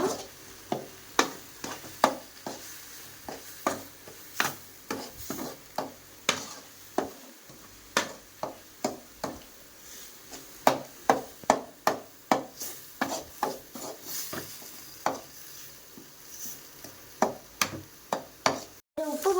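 A spoon stirs and sautés a curry powder mixture of mutton masala and kuzhambu powder in a pan for an egg curry. Steady, rhythmic scrapes and taps ring out close up over a soft sizzle, with no talking.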